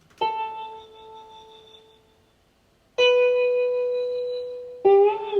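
A dry, plain synthesized guitar tone with no guitar rig effects preset, in Ableton, plays a few sustained notes, with a short pause before a louder note and another entry near the end.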